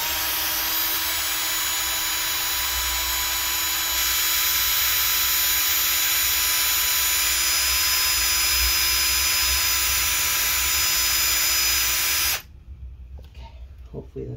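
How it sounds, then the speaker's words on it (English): A power drill whirs continuously while boring into a part of a Dell Inspiron 15 3501 laptop, a loud high-pitched steady whine with a low rumble, running for about twelve seconds before abruptly stopping into quieter handling noise. "So we're gonna drill it some more."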